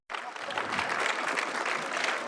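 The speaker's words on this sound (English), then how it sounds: "Can we please give her one more round of applause?" After a poet's reading at a city council meeting, a room of attendees breaks into sudden applause that starts abruptly and holds as a steady, full clapping wash.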